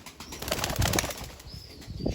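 Wings of a pied pigeon flap in a quick, close flurry, a soft rustling burst that lingers over a couple of seconds with faint bird sounds around it.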